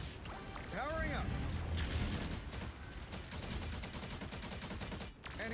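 Rapid crackling blasts and bursting pops in the Marvel Rivals video game, a dense, loud, continuous barrage with a few whistling tones at the start and one sharp hit near the end.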